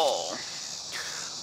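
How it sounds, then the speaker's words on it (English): Crickets chirp at dusk with a steady, faint, high-pitched drone that runs through the whole background, while a brief voice sounds at the start. "The crickets are out. That's why there's a noise in the background."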